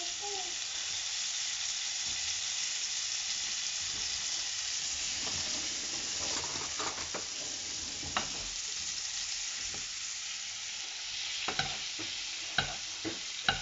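Lamb pieces sizzle in butter in a pan, a continuous close frying hiss with occasional clicks and scrapes of stirring growing more frequent toward the end.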